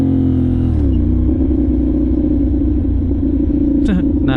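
CFMoto 450NK motorcycle riding on a road, its steady engine drone dipping briefly around a missed gear shift before settling back into a continuous rumble, with a short whine of another passing sound near the end.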